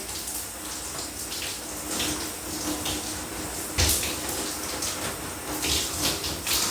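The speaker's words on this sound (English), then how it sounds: "making sure that I'm going inside of my braids to rinse it out so you don't have like residue in it" Water running from a tap and splashing while braided hair is rinsed out, a steady broadband hiss of flow with brief louder surges near the end, close and continuous with no talking.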